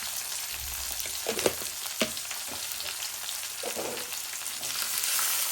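Medium-sized brinjal pieces and garlic sizzle steadily in hot oil, a continuous close hiss broken by a few soft clinks and stirring sounds.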